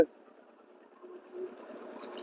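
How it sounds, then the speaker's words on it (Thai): A tractor engine runs in a Thai rice paddy during planting, a steady mid-range mechanical chatter with a sharp onset, continuing at moderate distance and rising slightly in the latter half, with no clear speech. "ได้ยินแต่เสียงรถไถพี่น้องเอ้ย"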